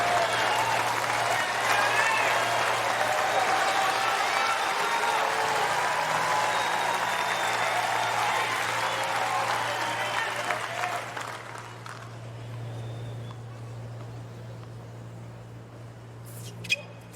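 A tennis crowd at the US Open applauds loudly and steadily, a dense roar of clapping that gradually thins and fades into quieter murmuring, with a low steady hum beneath.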